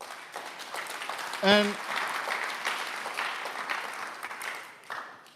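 Applause from an audience at a graduation ceremony: sustained clapping from a crowd that continues for several seconds, with a brief whistle or tone near the start.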